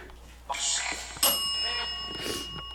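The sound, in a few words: bell ringing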